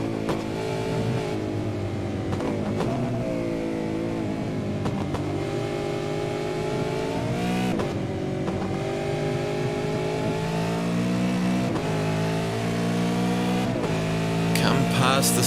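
Supercars racing past at Barber Motorsport Park, their engines droning and rising in pitch as they circulate in lap traffic, loud and steady throughout with a commentator talking over the noise.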